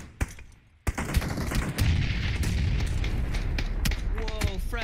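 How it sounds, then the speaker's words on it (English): Frag grenades bursting amid rapid gunfire in a video game battle royale match, with sharp cracks and a dense, continuous crackle of shots. A heavy blast opens the fight, followed by layered explosions and firing. "Whoa, frag grenades going off."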